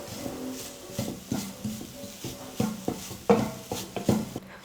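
Grated coconut dry-roasting in a pan over low flame, a spoon scraping and stirring in a steady rhythm of soft knocks and scrapes, close and moderately loud with no voices.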